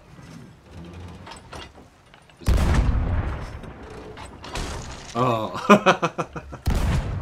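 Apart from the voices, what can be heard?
cannon fire in the video game Sea of Thieves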